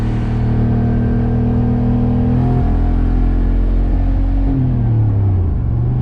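Car engine pulling hard in third gear on a replacement used transmission: a loud, close, droning rumble whose pitch climbs steadily, dips at a shift and rises again, with no talk.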